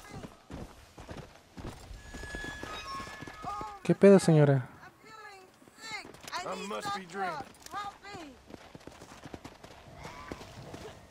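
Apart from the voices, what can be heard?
horse trotting in a video game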